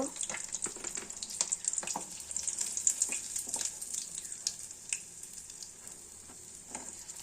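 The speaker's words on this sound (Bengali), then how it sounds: "মাছগুলো দেখো ফ্রাই হচ্ছে" Amodi fish frying in oil, a dense crackling sizzle with frequent sharp pops and spatters throughout, fairly quiet and close, with no talking.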